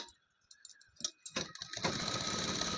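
A sewing machine stitches blouse fabric, starting with scattered ticks and short mechanical clatters before settling into a steady, loud continuous whir of rapid stitching.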